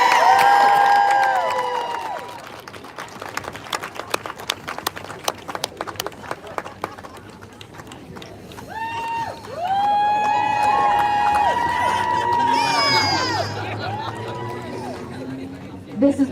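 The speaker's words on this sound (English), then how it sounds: "Can we get a round of applause for these kids?" Crowd noise at a protest against food dyes, with scattered clapping and cheers for children, then voices rising in a lively hubbub, loud and continuous with talk mixed throughout.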